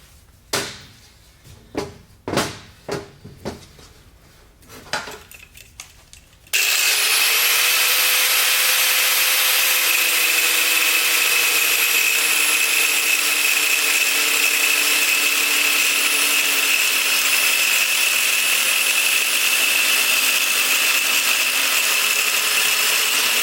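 Abrasive cutoff wheel cutting through a radiator hose on an RX-7 dual radiator setup: several short handling knocks first, then a loud, steady high-pitched whine of the spinning wheel that holds for about seventeen seconds.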